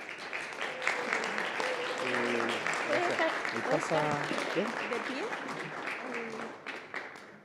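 Panel audience applauding Doctor París, a moderate, steady wash of clapping from a crowd that holds for several seconds and then tapers, with voices talking over it.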